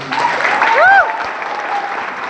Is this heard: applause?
yes